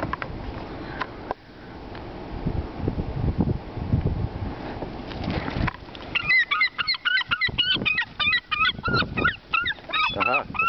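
Seagulls squabble over french fries at Rock Harbor, first with shuffling and scattered noises, then a burst of close, loud, repeated squawks and cries overlapping in a frantic feeding frenzy.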